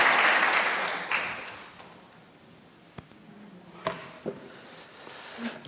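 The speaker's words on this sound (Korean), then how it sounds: "우리 감사의 박수를 같이 드리도록 하겠습니다" A church congregation claps in thanks during a Sunday revival service. The applause is loudest at the start and fades within a couple of seconds, leaving a quiet room with a few faint knocks.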